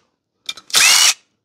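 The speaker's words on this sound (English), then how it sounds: "Go ahead and loosen these. I got the gun in my hand already." Impact gun loosening engine head bolts on a locked-up Briggs & Stratton Intek engine: a couple of brief trigger taps, then one loud half-second burst of rattling hammering, close and alone.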